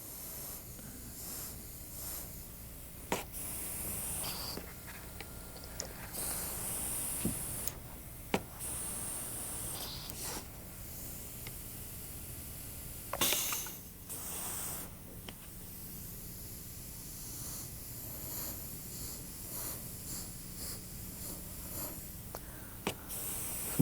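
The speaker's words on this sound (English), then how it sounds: "I'm going to hold the airbrush back farther versus keeping it close as I did on here." An airbrush spraying coloured dots onto a decorated cake, short soft hissing bursts separated by quiet pauses, faint and close.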